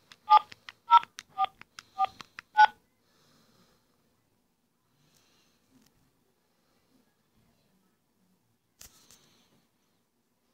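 A phone keypad sends a quick run of six DTMF tones while a mobile number is entered into an automated Mobilicity call-centre line. The beeps come close together over about three seconds, followed by near silence and a faint click.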